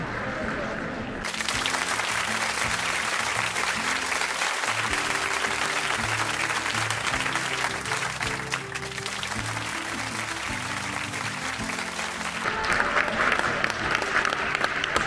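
A hall audience at a film gala applauds as the cast and crew walk in, a long, sustained wash of clapping with music playing underneath, swelling louder near the end.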